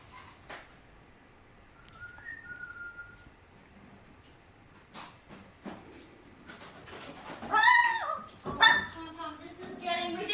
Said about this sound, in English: You're barking at everything.